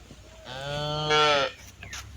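A single loud cow moo, drawn out and rising in pitch before cutting off, close by with faint background noise.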